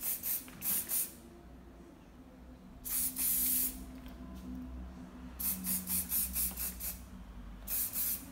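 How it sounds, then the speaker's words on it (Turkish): Hair spray hisses onto hair while a bun updo is styled, in several short bursts spread across the stretch: one pair early, another burst mid-way, then a quick run of puffs and a final spray, close and crisp against quiet room noise. "şimdi yönüne doğru spreyimizi sıkıyoruz."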